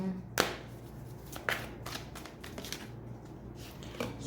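Tarot cards shuffled by hand, a dense papery riffle with a few sharper snaps and taps near the start and middle, close and alone without talk.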